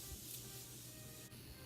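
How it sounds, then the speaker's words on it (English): Morphe Setting Mist Spray is misted onto a face: a soft, quiet, sustained hiss with a brief break near the end, close and alone. "I'll be setting my face with the Morphe Setting Mist Spray."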